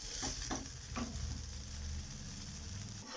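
Jowar (jonna pindi) dosa frying on a pan, a quiet, steady sizzle with a few soft scraping touches as it is flipped, close and faint.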